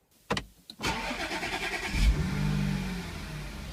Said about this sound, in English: Okay, so time to start it up, you know, get that fluid moving around the gearbox.